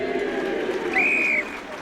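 Scattered applause from the sidelines at a rugby league match between Wakefield and Hull, a brief soft patter of clapping in a wide outdoor space with a whistle-like tone sounding partway through.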